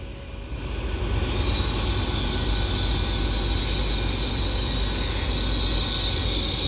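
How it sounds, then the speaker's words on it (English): A Transport for Wales Class 197 train departs Chester station, its steady loud rumble and rail noise filling the platform with a sustained high whine rising in above it and holding throughout. "now departing is going to be the 1423 Transport for Wales service to Holyhead from Cardiff Central with 197102."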